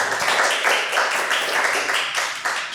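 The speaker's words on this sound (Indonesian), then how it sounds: "Tepuk tangan." Applause from a studio audience at an Indonesian podcast taping, with steady dense hand-clapping running through the whole short stretch, fairly loud and close with no talking over it.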